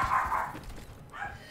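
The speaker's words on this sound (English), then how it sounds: "Come on, dog, shut up." A dog barks a couple of times up close in the Advanced Warfare PC game, short sharp yips standing alone with no talk over them.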